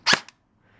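An airsoft gun with a newly installed motor fires one short, sharp snap up close, followed by a brief smaller click and then quiet.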